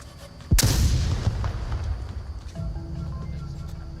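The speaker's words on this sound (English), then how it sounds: "Out goes a nade." A grenade goes off in the VR shooter Onward: one sudden, loud, close boom with a sharp crack, then a long rumbling decay under faint background noise.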